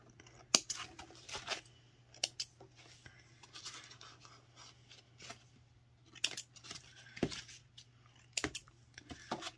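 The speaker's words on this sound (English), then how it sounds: "Just trim the threads." Scissors trimming loose threads on small bound journal ornaments, a few sparse, quiet close snips and scratchy paper handling against a faint steady hum, with no speech.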